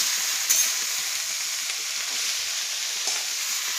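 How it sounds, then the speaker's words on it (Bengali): Chameli greens (shak) cooking in a pan give a steady, fairly quiet sizzle and hiss, with a couple of faint clinks and stirring scrapes and no voices. "সকাল সকাল শাক রান্না করতে বসে পড়লাম।"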